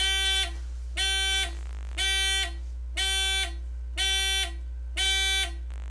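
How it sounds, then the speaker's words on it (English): A Digistump Oak DIY smoke detector alarm sounds six loud, evenly spaced buzzing beeps, each about half a second long with a short gap between, over a steady low electrical hum. "I just made the alarm go for 10 iterations"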